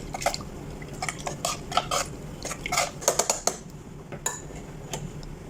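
A spoon scrapes and clinks against a metal bowl while flour batter for fried chicken is stirred, making quick irregular bursts of clatter close by with no talking.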